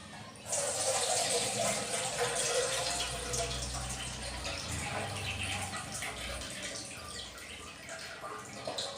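Water runs and splashes steadily into a container for several seconds, close and moderately loud, gradually softening toward the end.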